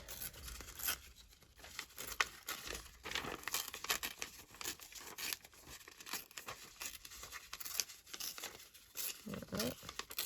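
Paper tearing and crinkling during a vellum pocket craft project, soft ripping and rustling in uneven bursts close by, faint and with quiet talk underneath.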